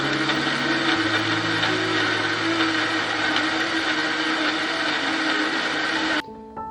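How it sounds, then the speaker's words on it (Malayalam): A kitchen mixer grinder blends a banana smoothie with a loud, steady whirring roar that runs continuously for about six seconds, then cuts off abruptly near the end. "ഇനി മിക്സിയിലിട്ട് 2 അടി സംഭവം സെറ്റാകും."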